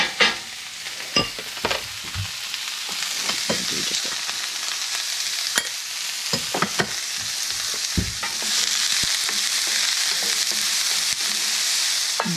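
Onion, meat and garlic for moussaka fry in a hot pan, with a steady sizzle broken by irregular scraping and stirring clatters, and the sizzle swells louder toward the end.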